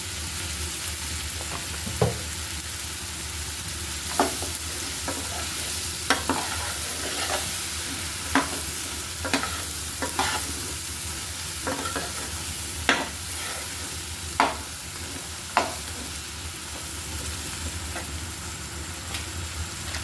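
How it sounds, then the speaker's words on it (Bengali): Amra pickle frying in oil in a pan, with a steady sizzle throughout and intermittent scraping clicks of a spoon stirring, close and without talk. "আমি আরও কিছুটা তেল অ্যাড করে দিচ্ছি।"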